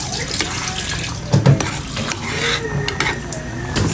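Tteokbokki coated in cheese powder being stirred in a pan, a steady close scraping and shuffling with a few sharper knocks of the utensil and no talking.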